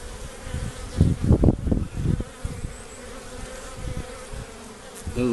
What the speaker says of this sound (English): Here's another hive, and they too are bringing in this pollen.